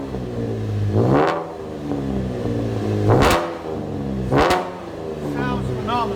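A 2012 Chevy Camaro V6 with mufflers cut off and straight pipes revs loudly up close three times, each sharp rise and fall separated by a rumbling, uneven idle; a voice speaks briefly toward the end.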